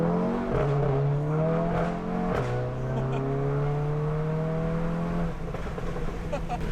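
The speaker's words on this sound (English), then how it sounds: "we're gonna do launch control in the GTI" An APR Stage 2 tuned Volkswagen GTI launches under launch control, its engine droning loud and close as it climbs through the revs, with a brief dip at a gear change, under voices in the car.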